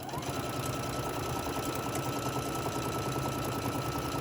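Sewing machine back stitching a seam on a drawstring Santa bag, a steady fast mechanical whirring with a constant rhythmic needle chatter, close and even in loudness, with no talking.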